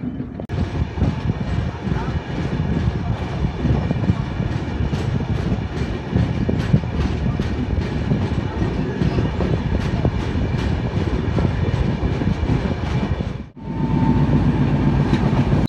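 Kolkata Jammu Tawi Express running at night, a loud continuous rumble of wheels and carriages with steady clickety-clack rhythm, heard from inside the train and dipping briefly near the end.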